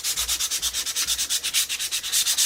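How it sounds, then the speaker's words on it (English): Rough sanding disc rubbed over the back of painting paper in quick, even back-and-forth strokes, a close, loud, rhythmic scratchy rasp with no voices. "We're going to take a rough sanding disc and just rough up our paper on the back side."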